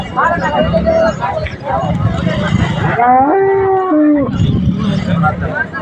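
A cow lets out one long, drawn-out moo close by at a bullock market, amid outdoor chatter from several people talking before and after.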